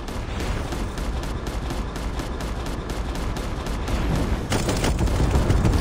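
Rapid continuous gunfire from a Call of Duty Mobile battle royale match, dense bursts running loud throughout with heavier shots toward the end.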